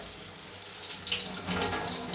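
Lukewarm tap water runs steadily from a faucet over frozen peas in a colander, a close, continuous splashing hiss with slight surges and no voices.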